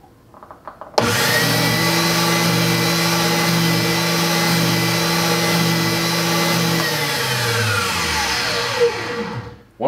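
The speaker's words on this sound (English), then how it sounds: "So let's try the the oscillating sanding machine." A hand-held oscillating sanding machine starts up abruptly and runs with a loud, steady motor whine and buzz for several seconds, then winds down near the end.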